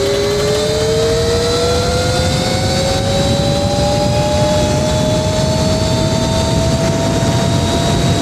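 A rising electric whine from an Alibaba EM5 electric motorbike at high speed on a road, a steady loud tone climbing in pitch under continuous wind and road roar, with no talking.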